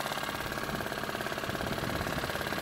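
A continuous boat motor engine drones at a steady chugging rate, loud and close, filling the whole moment without pause.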